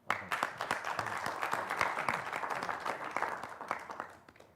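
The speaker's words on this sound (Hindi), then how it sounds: "आपसे गुजारिश है कि तालियों के साथ इनका इस्तकबाल करें।" An audience at a televised Urdu poetry gathering applauds to welcome a poet, steady crowd clapping for a few seconds, moderately distant and fairly quiet.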